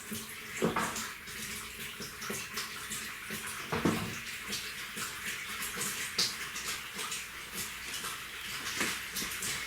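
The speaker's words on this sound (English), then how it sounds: "put the plug in the sink, get some water in the sink" Water running steadily from a tap into a plugged sink, a faint continuous splashing stream with a few small clinks, heard alone without talk.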